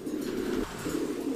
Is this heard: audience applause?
no